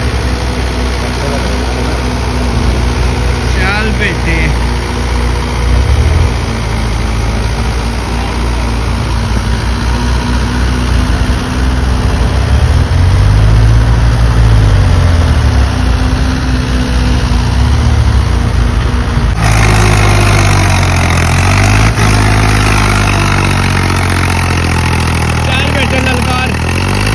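A Mahindra tractor engine runs steadily in a farm setting, a loud, close low rumble with a rising change in pitch partway through, while people talk over it.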